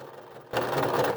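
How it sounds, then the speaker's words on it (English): A sewing machine back stitching through a tote bag pocket: after a short quiet pause the motor starts abruptly into a close, steady whirring run that lasts to the end, with no talk. "I'm going to do the back stitching now"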